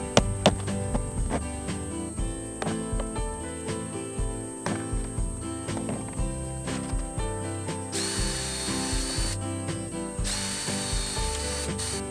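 A power drill bores holes in wood for a Jeep camping sleeping platform, its motor whirring in repeated close, loud bursts with short pauses between them, then a higher-pitched whine near the end.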